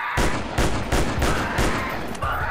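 Gunfire during a dinosaur hunt in a video game: a series of loud, close shots spaced roughly every third of a second, each with a sharp onset and short ringing tail.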